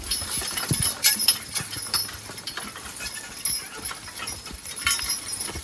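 Young two- and three-year-old draft horses are driven as a team, their hooves clip-clopping in an uneven, moderately close rhythm, with light jingling of harness.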